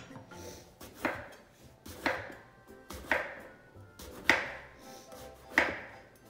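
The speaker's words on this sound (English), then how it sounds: "So, okay, so I'm gonna cut the eggplant now." A knife cuts through an eggplant on a board for eggplant parmigiana, giving five evenly spaced crisp chops about a second apart, close and clear with quiet pauses between.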